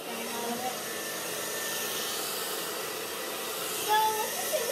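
A hair dryer blowing steadily through a plastic bag over hair, a constant airy whooshing roar with a slight rustle near the end, loud and close with no talking.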